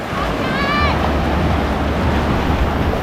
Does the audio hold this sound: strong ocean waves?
yes